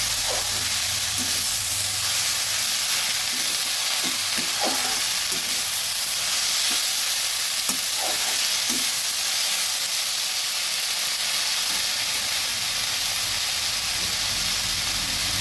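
Pumpkin flowers fry briefly in a pan with a steady, broad hiss of hot oil and a few soft stirring knocks early on.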